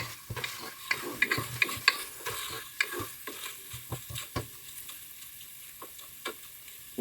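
Fennel, cumin and sesame sautéing on low heat produce a soft sizzle under frequent close stirring scrapes and light spoon taps, fading to quieter frying toward the end.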